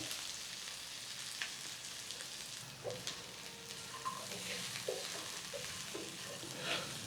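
Peanut sundal sits in a hot pan with the heat switched off, giving a soft, continuous sizzle and hiss with a few light stirring taps.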